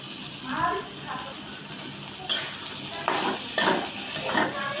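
Potatoes frying in a pan give off a steady low sizzle with a few sharp scraping clatters of stirring, while a faint voice briefly murmurs near the start.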